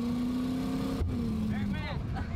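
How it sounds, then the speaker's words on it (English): A car engine held at full throttle roars steadily while a tire spins until it bursts with one sharp, loud pop about midway, and the engine note falls off afterwards, with voices nearby. "Did I just explode a tire?"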